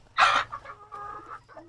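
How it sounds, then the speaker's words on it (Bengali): Sonali breed chickens cluck close by while eating grass, with one sharp squawk followed by several softer clucks and murmurs over a quiet background. "এটা হচ্ছে সোনালী জাতের মুরগি"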